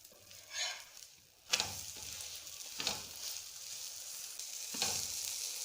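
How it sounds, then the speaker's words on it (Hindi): Paratha cooks in a pan with oil or ghee, a soft sizzle that swells sharply as the fat is brushed on, then holds steady with occasional scraping strokes, close and without speech. "अब इस पे हल्का सा ऑयल का ब्रश करेंगे हम। घी यूज़ कर लें, ऑयल यूज़ कर लें।"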